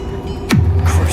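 A Bombarda blasting spell goes off in Hogwarts Legacy: a sharp whoosh bursts and sweeps downward into a deep, booming rumble that lingers, all close and loud with no talking.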